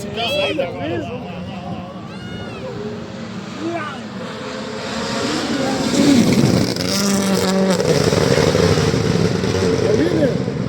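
A WRC rally car tears past on a stage of Rally Paraguay, its engine note rising and falling as it nears and passes, then a loud sustained roar, with spectators talking and shouting over it.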